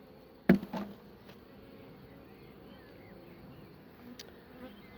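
Honeybees hum faintly around a hive as a colony is rehoused, a soft steady drone after a sudden close knock near the start.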